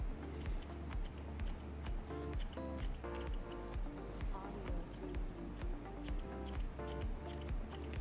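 Scissors snip hair in quick, crisp repeated cuts, a steady close-up series of small clicks refining the hair a little at a time.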